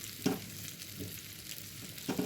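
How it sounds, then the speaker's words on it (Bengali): Chicken frying in a pan and being stirred, a steady sizzle with a few scraping strokes of a spatula at regular intervals, close and alone. "আমি বারে বারে নাড়ছি এখন, না হলে তো পোড়া লেগে যাবে।"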